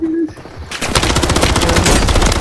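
Rapid automatic gunfire from Call of Duty on Rebirth Island bursts in loud and close after a short quiet lead-in, then continues as a dense, sustained stream of shots.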